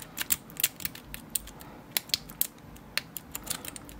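Picking a Brinks brass 40mm four-pin padlock produces faint, close, irregular metallic clicks and ticks of the pick and pins, alone without talk.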